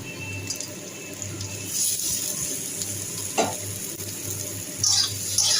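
Onions and bitter gourd frying in a pan, a steady close sizzle with stirring scrapes and brief clatters throughout, no voices.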